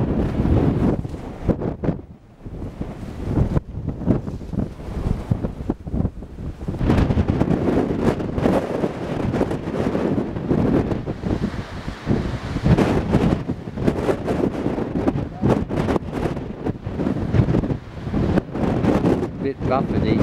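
Strong wind buffets the microphone in a continuous roar with gusty surges, and a person talks briefly beneath the rumble, standing on a roof in an exposed saddle near the coast.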